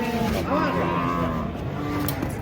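An agitated cow being unloaded from a truck lets out drawn-out, wavering moos over a continuous rumble of crowd and vehicle noise, with voices mixed in.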